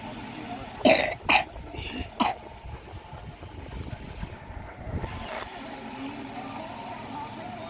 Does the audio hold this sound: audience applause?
no